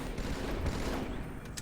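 Dense, rapid gunfire from the Halo 2 video game crackles steadily at a moderate distance, a continuous barrage with no talking.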